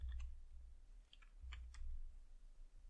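Quiet, close typing on a computer keyboard while entering Python code: a few scattered, light key clicks over a low background hum.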